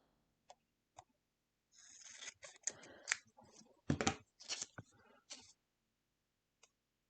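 Scissors snip through paper on the diagonal for a scrapbook triangle, with a couple of soft isolated clicks, then a close, quiet run of crisp cutting and rustling, and a final faint snip, with no talking.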